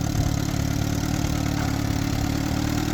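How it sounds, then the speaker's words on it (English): A small vintage tractor engine idling, a steady low rumbling putter that stays close and even throughout the short stretch, with no voices over it. "Just the perfect Emily-sized tractor."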